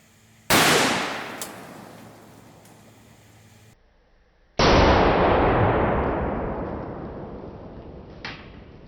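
Two sharp, loud gunshots strike a cheap Walmart gun safe a few seconds apart outdoors, each blast ringing out and decaying slowly, with faint metallic knocks afterward.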